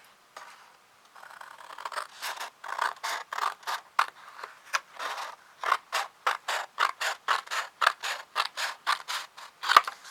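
Scissors snip repeatedly through a paper card base, a quick steady series of crisp close cuts that starts sparse and settles into a regular rhythm, with no talking.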